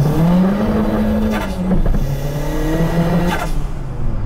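A turbocharged Daewoo Matiz pulls away hard from a red light, its engine droning loudly and rising in pitch, dipping briefly at a gear change before climbing again, close and continuous with no talking.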